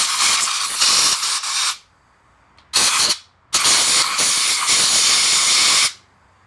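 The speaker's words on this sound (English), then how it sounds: "we're going to blow any dust and dirt out of here" Compressed air hisses loudly while blowing dust and dirt out of the points housing on a Honda Z50, in three close bursts: a long blast, a brief puff, then another long blast.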